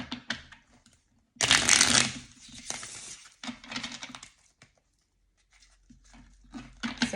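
Tarot cards are shuffled in short bursts of papery riffling and patter, separated by quiet pauses, close and fairly loud.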